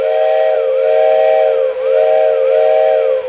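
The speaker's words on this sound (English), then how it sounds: "it gives you an instant steam whistle" A loud, steady electric model railway steam whistle blows with a slightly wavering pitch, dipping briefly midway before continuing, a breathy hiss underneath.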